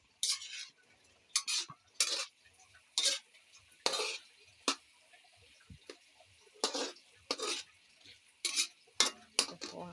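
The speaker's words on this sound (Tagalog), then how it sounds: "Ayan, haluin natin." A utensil scrapes and clinks against a pan while stirring sautéed seasonings, giving irregular bursts of scraping with a faint sizzle and a voice underneath.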